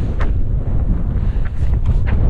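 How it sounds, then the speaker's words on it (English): Wind buffets the microphone in a steady low rumble, with a few faint brief rustles on top. "Windy."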